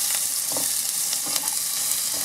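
Onions sauté in a hot pan, a bright steady sizzle close up with soft scraping stirs and a few louder clatters of the utensil against the pan.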